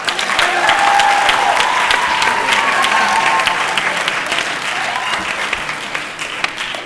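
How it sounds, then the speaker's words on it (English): An audience at a live STXi community talk claps steadily and fairly loudly for several seconds, the applause thinning slightly toward the end. "Let's give another round of applause for all our STXi volunteers to help put this together."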